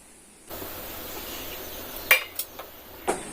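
Chopped mushroom pieces drop into a hot pan with curry leaves for a Kerala-style dish, starting a steady sizzle that continues under a few sharp metallic clinks from a utensil.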